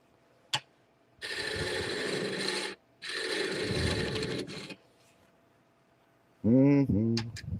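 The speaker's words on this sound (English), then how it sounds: "So I'm trying to sand in here a little bit first." Wood being sanded with a power tool during woodworking, heard as two sustained, close bursts of abrasive whirring grind separated by a short pause, then a voice near the end.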